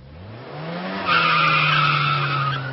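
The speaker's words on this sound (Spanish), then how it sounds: "¿Qué pasa con su cuerpo al escuchar un frenazo y usted está en una moto?" Vehicle braking hard with skidding tires, beginning with a rising engine tone that gives way to a loud, sustained screech lasting about two seconds, close and alone.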